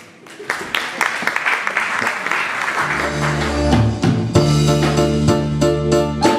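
An audience at an orphanage association's first-anniversary event applauds a music group, a loud burst of clapping and crowd noise that merges into the band starting to play sustained tones.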